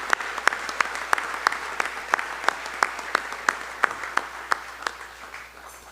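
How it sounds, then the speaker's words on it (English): Audience applause at an awards enshrinement banquet sponsored by Shelter Insurance, a steady roomful of clapping with sharp individual claps standing out, fairly close and sustained throughout before tapering slightly at the end. "how about a round of applause for Shelter Insurance?"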